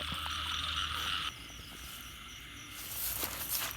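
Frogs croak at night in a rural Thai field during a pre-dawn frog hunt, a pulsing chorus mixed with insect trills, softer after the first second and joined by faint rustling later.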